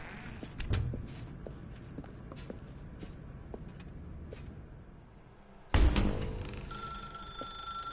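A telephone in the video game The Stanley Parable starts ringing loudly after a stretch of quiet footsteps and small clicks, its bright ring continuing to the end.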